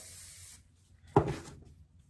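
A single short spritz of hair spray on a section of hair before flat ironing: one close, brief hiss in an otherwise quiet room.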